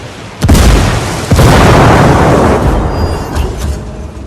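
A frag grenade blast in Ghost Recon Wildlands: two loud, close booms about a second apart, the second rolling into a long, broad rumble that slowly fades.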